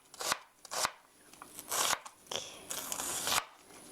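Knife cutting vegetables into thin 0.3 cm julienne strips for japchae, giving bursts of quick crisp chopping strokes on a board, separated by brief pauses.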